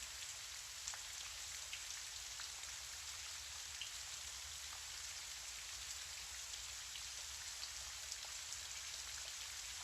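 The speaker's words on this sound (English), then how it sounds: "Listen to the sound of the rain as it continues to fall." Gentle rain falls steadily and softly, a continuous even patter with scattered faint drops, heard alone with no voices.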